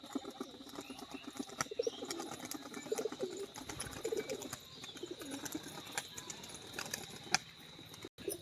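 A male red Doma pigeon coos in low, soft burbles amid scattered wing flaps and faint chirps from other birds, quiet and slightly distant, with no voices.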